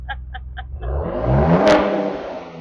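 A brand new Ford Bronco Stroppe revs with a louder exhaust: a loud, broadband engine roar that rises after a short pause, swells, and holds steady to the end.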